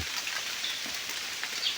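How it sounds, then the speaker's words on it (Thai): Steady rain falls in a forest in a constant soft hiss, an even wash of drops with no voices. "ฝนตกประมาณ"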